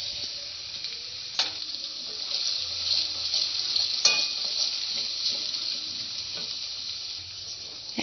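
Ginger garlic paste sizzles with chopped onions in a pan as a steady, soft frying hiss, with a couple of sharp utensil knocks against the pan.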